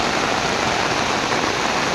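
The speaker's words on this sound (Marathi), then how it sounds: "एवढं मोठं पाऊस लागता म्हणजे केद्या मोठ्या थेंब्यांचा पाऊस लागता" Heavy rain with big drops pours down steadily in a dense, loud, close roar of water that holds unchanged throughout, with no voices.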